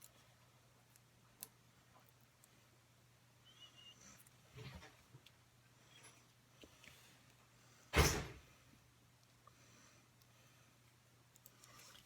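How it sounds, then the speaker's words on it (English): A house door closes once, a single sharp thud partway through, against a quiet room with a low steady hum and a few small scattered knocks. "If you hear the door closing, it's my husband."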